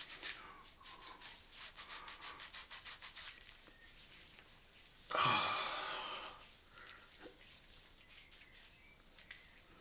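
Wet fingers rub mentholated pre-shave onto a head in a quick series of soft rhythmic strokes, close and quiet, followed by a single louder brushing swipe and then near silence.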